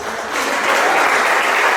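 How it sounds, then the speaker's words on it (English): Audience applause rises and holds for committee members at a blues reunion event, a dense, steady wash of many hands clapping that swells after a brief start and stays loud throughout. "Let's give them a big round of applause."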